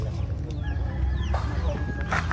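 Chickens cluck in short, close bursts around a rooster and its brood of chicks on a farm, with soft chirps mixed in and no talking.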